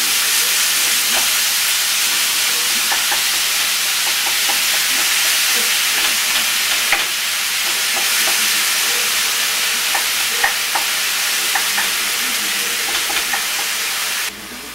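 Ground turkey meat frying and browning in a pan, a loud steady sizzle and hiss with light scrapes and taps from a flat wooden spatula stirring it throughout.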